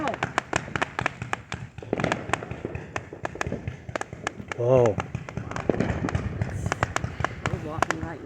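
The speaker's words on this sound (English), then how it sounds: "Beautiful fireworks in there in the sky." Fourth of July fireworks in Cape Coral pop and crackle in quick irregular bursts, a mix of sharp nearby bangs and softer distant thumps, with people talking and exclaiming throughout.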